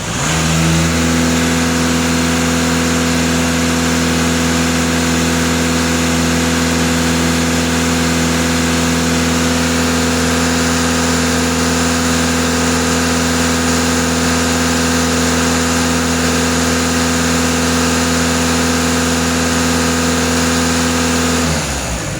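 A VW Passat B8 engine, warmed up and connected to a pressure gauge at the DPF for fault code P0470, holds a steady, loud, even drone at raised revs with no break for the whole stretch.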